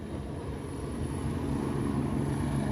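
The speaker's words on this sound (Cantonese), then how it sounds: "又有直升機" A helicopter drones overhead near a seaside shore-fishing spot, its engine and rotor making a steady, fairly faint rumble with no voices.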